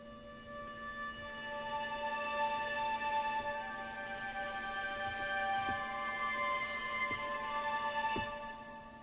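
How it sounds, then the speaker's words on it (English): Airy, breathy pad layered beneath sustained orchestral strings from the Albion 2 Loegria library, bathed in algorithmic reverb; steady, soft held tones that swell gently and trail out, with no talking. "it will take the air sound and add reverb to that, which gives you like this really airy sound"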